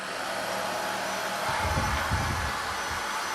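WnkimTech cordless vacuum cleaner runs with a steady, close airy whir and hiss, holding a constant level throughout with a slight low rumble partway through.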